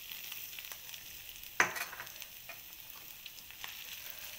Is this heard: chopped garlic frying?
yes